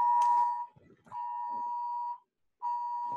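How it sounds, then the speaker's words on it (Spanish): A phone alarm goes off during a live stream as a steady electronic tone sounding in three long repeated bursts separated by short gaps, loud, close and alone. "vamos a quitar una alarma que está saliendo aquí en el teléfono"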